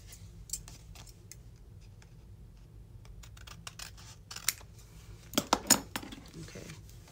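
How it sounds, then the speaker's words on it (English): Several quick snips of scissors cutting ribbon, a cluster of sharp clicks near the end after quieter rustling, close and fairly soft. "Let me get my gunky scissors to cut this off."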